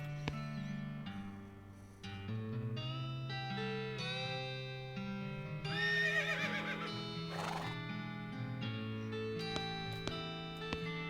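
A horse whinnies in the western comedy video game West of Loathing, a wavering high neigh rising over a twangy background music track, with a second shorter whinny following closely.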